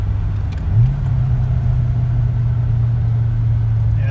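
A Fox Body Mustang cruises smoothly after an ECU repair, its engine giving a steady, close low drone under the cabin rumble with one brief swell in pitch and no bucking between shifts.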